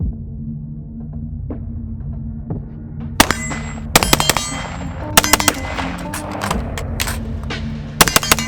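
Rifle gunfire through a QRS Salvo suppressor: after a steady low hum, a run of sharp, loud suppressed shots fires in uneven bursts and single cracks, close by, with no talking.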